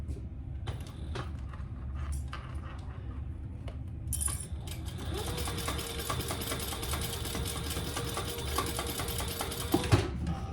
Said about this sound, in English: I will do 2 rows of stitches there